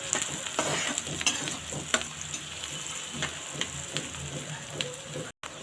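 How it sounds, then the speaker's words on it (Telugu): Onions fry in a pan with a constant close sizzle, broken by regular scraping strokes of a spoon as they are stirred, then a brief silent gap near the end. "ఉల్లిపాయలు అయితే వేయించుకున్నాం కదండి మంచిగా ఫ్రై చేసుకోవాలి"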